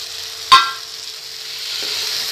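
Fried paneer cubes stirred into a spiced masala in a pan for chilli paneer, with a single sharp scrape of the spoon against a steady background sizzle.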